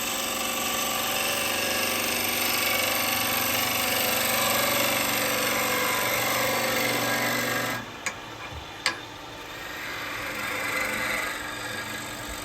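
A woodturning lathe spins while a gouge cuts wood with its bevel rubbing, a loud steady buzzing, rattling drone that stops abruptly near the end, followed by a couple of sharp knocks and a softer hum.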